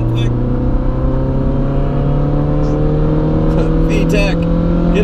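A Honda engine revs hard as VTEC engages, a loud steady in-car drone with rising harmonic pitch, heard from inside the car under continuous talk.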